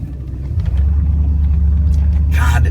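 Steady low engine rumble and road noise from a 1972 Cadillac Sedan DeVille pulling away and cruising, loud and continuous, with a brief brighter rush of wind or tire hiss near the end.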